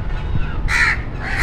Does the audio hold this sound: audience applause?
no